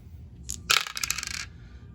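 Several dice rolled at once for a tabletop wargame clatter in a close, sharp burst of rattling clicks that bounce and settle over about a second.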